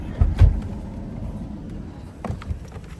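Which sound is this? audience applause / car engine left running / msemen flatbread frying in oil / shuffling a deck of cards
car engine left running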